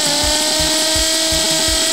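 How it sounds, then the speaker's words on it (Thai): A drill-headed toy character bores into a floor with a steady, loud mechanical whine and a rhythmic thumping pulse repeating about every third of a second, heard alone without talk. "แล้วนี่มันมาเจาะพื้นเราทำไมเหรอเนี่ย"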